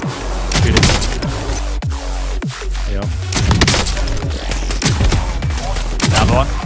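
Gunfire in Call of Duty Warzone cracks out in loud, close, rapid bursts, sharp repeated shots with booming impacts spread steadily throughout.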